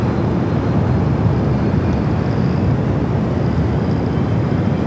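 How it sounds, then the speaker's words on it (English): Aer Lingus airliner bound for Dublin begins its takeoff roll on runway 25 right at Los Angeles International Airport, a steady broadband engine roar that stays loud and continuous throughout, with no voices. "Aer Lingus now heading back to Dublin, starting its roll down to 25 at right"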